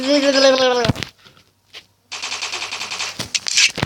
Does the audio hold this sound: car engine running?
no